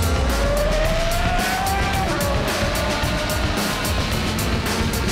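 Race car at a racing driver school accelerating down a straight, a loud close engine note climbing briefly, then dipping at a gear change, with gritty road and wind noise underneath and no speech.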